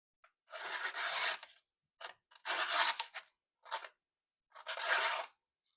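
A knife is drawn through a cheap AliExpress sharpener in four or five separate rasping strokes, each a gritty scrape of about half a second to a second, close and clear, with short silent gaps between them.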